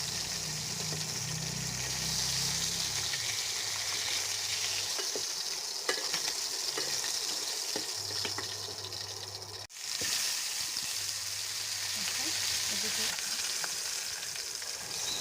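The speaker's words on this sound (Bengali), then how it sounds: "এই মাথাগুলো আমি ভেজে নিচ্ছি, সুন্দর করে ভেজে নেব" Rohu fish heads fry in a pan of oil for a fish curry with potatoes and taro, giving a steady, loud sizzle with occasional stirring scrapes throughout and a low hum underneath.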